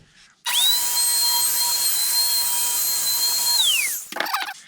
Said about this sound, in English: So I just punch holes through here so I'd have an access point.